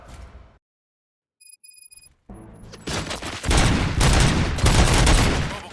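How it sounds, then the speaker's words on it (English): Gunfire in the video game RoboCop: Rogue City: after a brief silence and electronic beeps, dense rapid shots erupt into a loud, sustained fusillade. "Gunshots? What's going on?"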